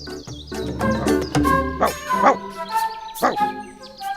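A cartoon dog in an animated Gujarati story barks several times in quick yelping bursts, close and clear, with no talk over it.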